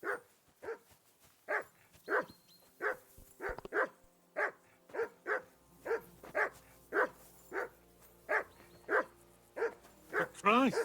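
A dog barks over and over in the medieval action game Kingdom Come: Deliverance II, with about eighteen sharp, evenly spaced barks at a steady rhythm, fairly close and clear against a quiet low background.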